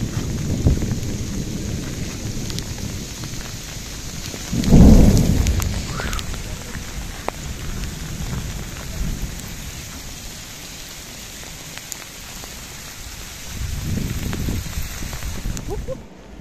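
Steady heavy rain pours down in a hailstorm while thunder booms loudly once early on and rumbles again more softly near the end.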